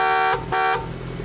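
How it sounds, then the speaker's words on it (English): Horn of a BAC Mono street-legal race car sounds twice in short, close, loud blasts with a brief gap between them, then falls quiet. "in case you want to know what the horn sounds like in a BAC Mono"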